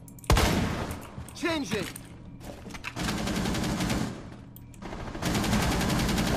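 Automatic and rapid gunfire from a Rainbow Six Siege match comes in loud dense bursts that fill long stretches, with a brief spoken word near the start and game effects in between.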